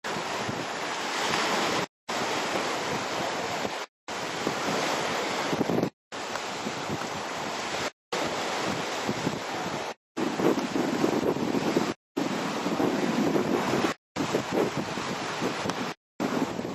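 Ocean waves and gusting wind at a hotel on the coast of Campeche, Mexico, a continuous broad rushing roar of surf and wind buffeting, broken by short regular gaps, with no talking.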